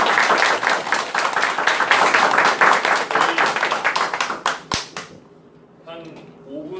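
Audience at a small seminar lecture by a painter applauds for several seconds, a dense patter of clapping that thins and stops, followed by quiet room tone and a voice starting to speak.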